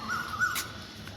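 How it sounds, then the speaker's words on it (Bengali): An Asian koel calling from trees with mango blossom, a short tonal call repeated a couple of times, moderately clear against quiet background. "কোকিলের আওয়াজ,"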